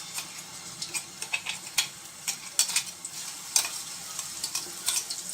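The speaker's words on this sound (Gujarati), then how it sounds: "હવે આપણું તેલ ગરમ થઈ ગયું છે તો એના માટે જો આ અમે આદુ મરચાં અને લસણ આ જે ક્રશ કરીને રાખ્યું હતું એ આપણે એમાં નાખી દઈશું" Ginger, chili and garlic paste sizzles in hot oil, with quiet frying crackle broken by frequent sharp spits and stirring ticks in an uneven rhythm, close and alone.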